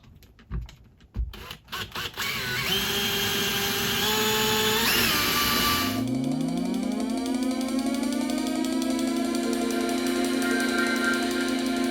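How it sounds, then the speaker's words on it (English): A power drill works through a substantial hole for a model railway freeway underpass, first in short ratcheting bursts, then a sustained whining spin that rises steeply in pitch as the motor comes up to speed and holds. "It's a pretty substantial hole we're going to be drilling too."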